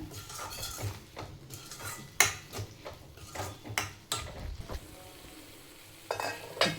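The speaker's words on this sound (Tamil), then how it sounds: "போட்டு நல்லா வதக்கிக்கலாம் ஒரு ரெண்டு நிமிஷம் பச்சை வாசனை போகிற அளவு வதக்கிட்டு" Masala sautéing in oil in a pan, a soft sizzle under repeated metal scrapes and clinks of a spoon against the pan, irregular and close.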